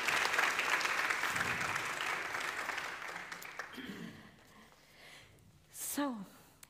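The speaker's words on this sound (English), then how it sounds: "applause for them." Audience applause at a regional university meeting, a dense wash of clapping that gradually fades out, followed by a voice starting to speak.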